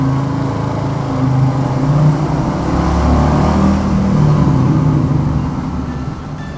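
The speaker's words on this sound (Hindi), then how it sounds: "तो आवाज़ कितना मस्त आता है बाइक का यार" Motorbike engine droning steadily while riding through a tunnel, a loud continuous rumble with reverberant low tones and slight swells in level throughout.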